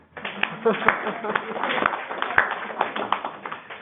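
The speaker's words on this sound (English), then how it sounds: "Let's give them a round of applause then." A small group gives a round of applause in a meeting, with scattered, moderately loud claps mixed with voices.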